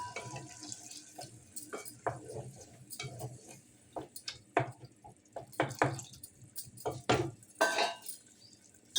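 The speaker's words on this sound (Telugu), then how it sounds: "ఇంకొన్ని వాటర్ పోస్తున్నాను." Water is poured into a cooking pot, with irregular splashes, drips and clinks of utensils against metal, close by and fairly quiet in a home kitchen.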